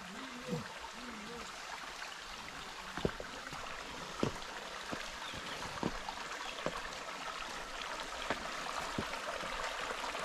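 Water pours down a natural waterfall in a steady, broad rush that fills the whole scene, with a few faint knocks and splashes scattered through it.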